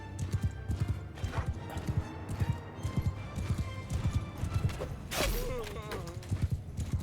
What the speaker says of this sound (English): the 4 horses are back